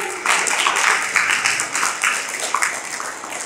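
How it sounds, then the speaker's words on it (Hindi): Audience applauding at a patriotic Hindi poetry recitation, a fairly loud, dense spell of clapping with a slightly pulsing rhythm that tapers toward the end. "आगे की पंक्तियों पे मैं आपकी ताली चाहती हूँ।"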